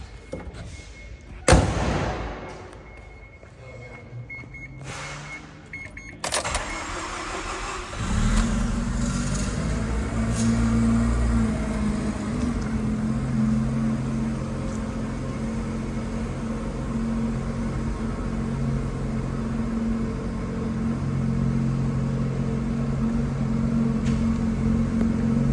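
Cold start of a 1997 Mazda RX-7 FD RS-R rotary engine in a chilly warehouse: clunks and a door thump, a brief cranking burst, then the engine catches and settles into a loud, steady, buzzing idle that keeps running.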